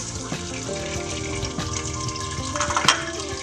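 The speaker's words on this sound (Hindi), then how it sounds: "प्याज डाल देते हैं," Onions dropped into a cup of hot oil in a pressure cooker, a continuous crackling sizzle with clattering stirring, close and steady, no voices.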